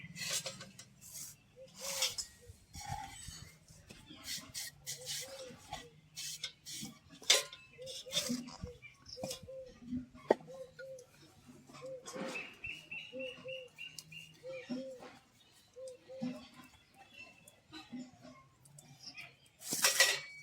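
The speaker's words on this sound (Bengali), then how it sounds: "এখন আমি রুটিগুলো বেলে নেব।" Roti dough is rolled out with a wooden rolling pin in a rural kitchen, giving repeated soft knocks and rubbing strokes at an uneven rhythm, while birds chirp faintly nearby.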